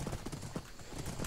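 Horse hooves clip-clop in the Minecraft game, a quick run of soft rhythmic thuds over noisy background sound.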